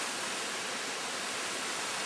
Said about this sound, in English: First waterfall, second layer, third.